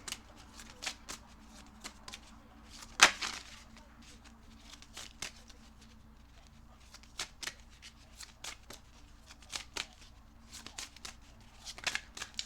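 Cards are shuffled in quick, soft riffling bursts, repeated many times at close range against a quiet background.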